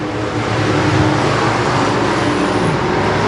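Stock cars racing on an oval track, a loud, dense engine roar from the pack that holds steady throughout with no voices.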